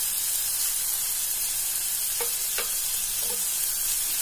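Soya chunks roast is stirred and fried in a pan with a loud, continuous close-up sizzle, marked by a few brief scraping stirs toward the end; nobody speaks.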